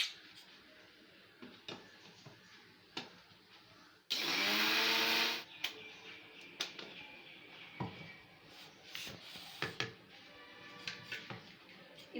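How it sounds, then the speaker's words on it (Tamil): A mixie grinds kollu kanji mix into powder in one loud, close burst of about a second and a half, set among quieter kitchen clicks and handling noises. "கொள்ளு கஞ்சி மிக்ஸை எடுத்து தேவையான அளவு மிக்ஸி ஜாரில் போட்டுக்கோங்க. போட்டு அது கொஞ்சம் ஃபைன் பவுடர் ஆகிற அளவுக்கு கொஞ்சம் நல்லா கிரைண்ட் பண்ணிக்கோங்க."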